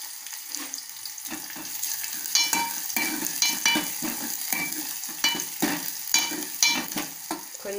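Garlic, onion and green chillies frying in a pan for pasar pappu curry, with a steady sizzle, repeated stirring scrapes and brief running-water sounds from a nearby tap.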